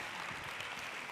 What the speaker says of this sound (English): Okay, you keep applauding.